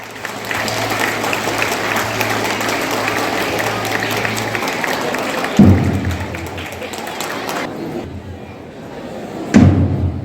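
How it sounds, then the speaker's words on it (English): An audience of schoolchildren and guests at a school investiture ceremony applauds in a large hall, sustained clapping with a low hum underneath, a couple of loud thuds later and the applause fading to quieter patches. "A big round of applause."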